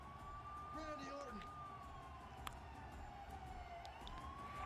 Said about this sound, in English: as Randy Orton gets driven off in the ambulance